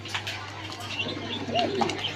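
A pair of young adult black lace shorting pigeons coos softly and steadily nearby, with a low constant hum underneath and a few brighter chirps near the end.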